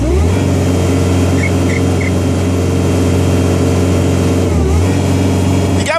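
An old Kubota tractor engine revs loud and steady with a dense low drone close by, racing a golf cart, the pitch dipping briefly near the end before climbing again as the turbo boost comes on.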